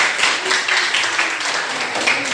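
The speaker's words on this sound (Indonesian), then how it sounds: "Tepuk tangan dulu kan" Students in a classroom give a short burst of dense applause after a group presentation, with steady clapping from many hands nearby.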